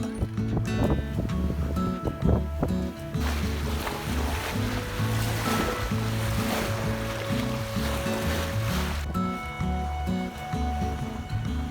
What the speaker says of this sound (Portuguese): Tanto vento que a gente pediu, ele veio em dobro.